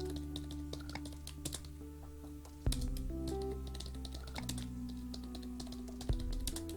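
Rapid typing on a computer keyboard as text is entered into a WordPress site editor, with crisp clustered key clicks running throughout over a steady low hum and held tones.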